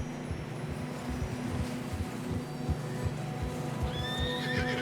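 Horse in the video game Red Dead Redemption 2 gallops with a steady, close clip-clop of hooves throughout, then lets out a shrill neigh near the end, with faint wind behind.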